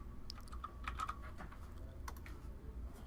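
Quiet, irregular clicking of keys on a computer keyboard while writing HTML in a text editor, light taps in short bursts with no voice.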